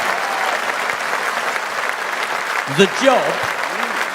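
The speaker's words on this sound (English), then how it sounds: "I just want to take 2 minutes and give this man a round of applause" A political rally crowd applauds its chairman, a steady roar of clapping throughout, with someone briefly speaking over it near the end.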